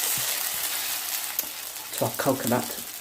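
A steady hissing sizzle of beef rendang curry with coconut frying dry in a pan, with brief voice-like murmurs and scraping toward the end.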